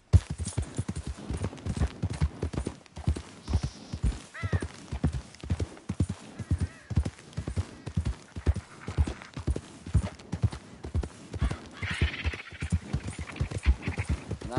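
A horse gallops in Red Dead Redemption 2, its hoofbeats a fast, regular, close thudding rhythm that runs throughout, with faint other sounds in the background.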